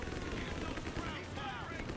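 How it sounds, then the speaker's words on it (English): Smoke barrage artillery in the World War II strategy game Company of Heroes 3, heard as a dense, continuous rumble of distant shelling and gunfire, steady and moderately quiet throughout. "Oh, it's a smoke barrage."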